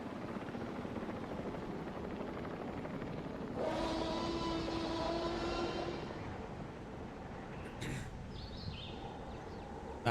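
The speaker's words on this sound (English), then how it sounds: "I love this monorail." A monorail glides past in the video game Jurassic World Evolution 3, a steady mechanical hum that swells for a couple of seconds over continuous background game ambience, then fades, with a short higher click near the end.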